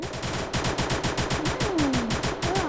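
Automatic gunfire in a shooting video game: rapid, evenly spaced shots in continuous loud bursts, close and dominant, with a brief voice sliding in pitch underneath.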